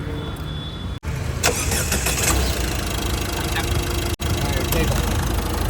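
A car engine runs after a battery exchange, a steady mid-pitched hum and idle close by throughout, with two brief sharp dropouts and people talking over it.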